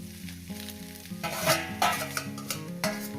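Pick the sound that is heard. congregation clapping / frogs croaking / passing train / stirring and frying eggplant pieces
stirring and frying eggplant pieces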